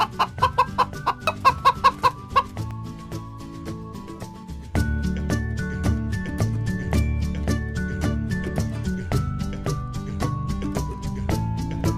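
A hen clucks in a quick run of short, rhythmic bursts at the start, then steady music carries on with sustained tones.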